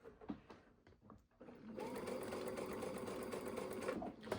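A sewing machine stitches fabric along a curved seam: a few soft handling clicks, then a steady, fast mechanical whirr that runs for several seconds at close range.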